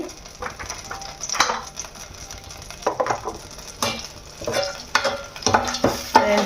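Cumin, mustard seeds, chana dal and dried red chillies frying in hot oil for a tomato chutney, with a constant sizzle broken by repeated bursts of stirring and spoon scraping against the pan.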